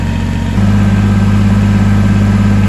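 Kubota tractor diesel engine idling on a cold day during warm-up, a steady low rumble that holds evenly throughout, with a slight shift in tone just after the start.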